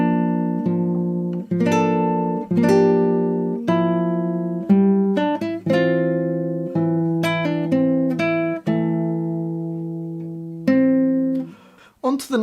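Guitar playing bars 11-12 of a piece from The Witcher 3, a slow solo line of plucked notes and open-string dyads ringing out one after another, clear and close with no talking.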